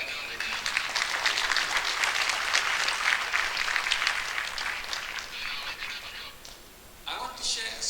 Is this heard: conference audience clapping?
yes